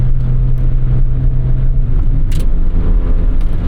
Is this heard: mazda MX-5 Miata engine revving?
yes